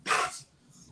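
A single dog gives one sharp bark, loud and close, then a quiet tail as it fades.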